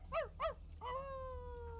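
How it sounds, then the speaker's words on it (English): A dog in a video game gives two short yips followed by a longer drawn-out whine or howl, close and clear over a low background hum. "okay, you're just barking at them."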